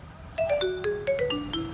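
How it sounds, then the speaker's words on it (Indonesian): A mobile phone rings for an incoming call, playing a bright, chiming melody of quick successive tones that repeats in short phrases, clear and fairly loud with no voices. "Lah, ada telepon nih."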